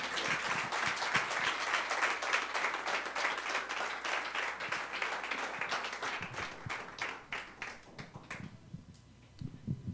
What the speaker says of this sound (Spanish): Un aplauso para Jesús.